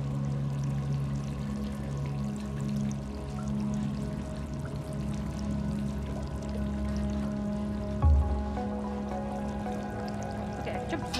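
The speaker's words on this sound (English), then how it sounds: "Water like dripping right here." Water drips and trickles in the video game Stray, a steady, close stream running without pause under a low hum, with one brief louder knock near the end.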